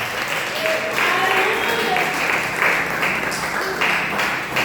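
A church congregation applauds steadily during an evening family service, a dense even wash of clapping with some voices mixed in, near and loud throughout.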